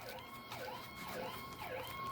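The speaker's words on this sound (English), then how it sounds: "Sorry about the sirens." Emergency vehicle sirens wail through the city, their rising and falling tones repeating steadily and sounding faint and distant throughout.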